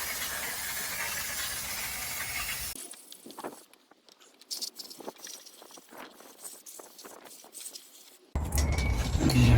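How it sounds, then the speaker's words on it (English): Carb cleaner sprays onto the carburettors of a Honda CB 400 Four motorbike as a close hiss that stops and starts in short bursts, with a louder stretch at the beginning and again at the end. "we'll just give them a quick wash off with a bit of carb cleaner"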